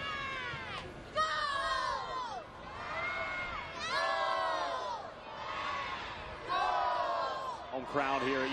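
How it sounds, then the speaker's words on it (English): A home crowd cheers and shouts at a UCF women's soccer semifinal against Memphis, rising and falling in several waves of voices throughout, with a commentator's voice running underneath. "Home crowd here at UCF trying to get into it"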